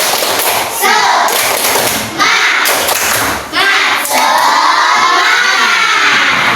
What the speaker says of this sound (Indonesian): supaya tidak tegang, kita tepuk semangat dulu